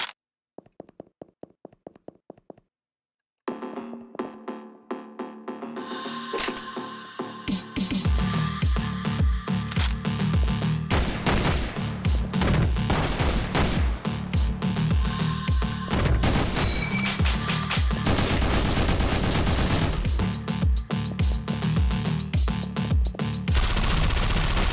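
Rapid bursts of automatic gunfire from the video game Otxo, dense and loud, firing almost continuously after a brief quiet opening of sparse clicks and tones.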